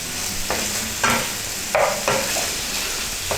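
Salmon sears in a hot frying pan under a steady sizzle, while a utensil scrapes and stirs in a few distinct strokes against the pan.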